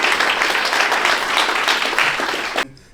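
Loud, dense applause from a crowd fills the room steadily, then cuts off abruptly near the end.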